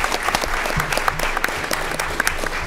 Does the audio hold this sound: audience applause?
yes